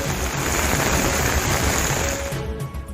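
Heavy monsoon rain pours down in Cuddalore, Tamil Nadu, a dense, steady hiss of rain drumming on surfaces, loud and close, easing slightly at the very end, with no voices.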